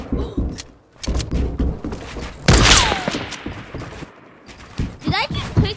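A sniper rifle quickscope shot in a video game cracks out sharply amid a burst of other game thumps and effects, with a descending whistle after it, while a player talks excitedly over the action.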